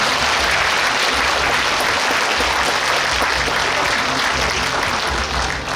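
A large audience at a book launch event in Suncheon applauding to welcome a guest: dense, continuous clapping that stays loud and steady throughout.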